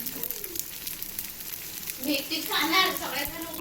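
Oil drizzled over appe frying in a pan, a soft steady sizzle that swells louder and crackles more brightly in the last second and a half as the oil hits the hot batter.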